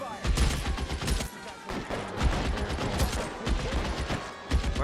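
Gunfire crackles through a shootout in the video game L.A. Noire, with rapid bursts and repeated shots packed close together, loud and continuous, pausing briefly once before resuming.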